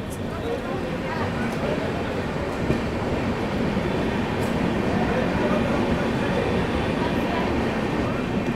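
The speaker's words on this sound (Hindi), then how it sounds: "चलिए निकल चुकी है अपनी ट्रेन बिहिया से" The 20801 Magadh Express rolls steadily along the track after leaving Bihiya, a loud continuous rumble of wheels and carriages heard from inside, with a voice talking over it.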